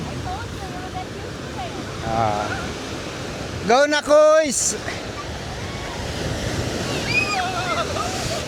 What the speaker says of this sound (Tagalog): Kasi mag-ano na, mag-high tide na eh. Kaya lumalakas ng alon.